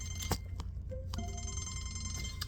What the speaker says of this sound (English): I was getting a phone call, sorry guys.